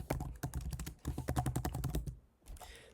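Rapid keystrokes on a computer keyboard while a website form is filled in, two close bursts of clicking clatter separated by a short pause, then a brief faint trailing sound, with no speech.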